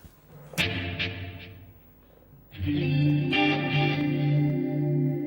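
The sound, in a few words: electric guitar through POD 2.0 with chorus, reverb and delay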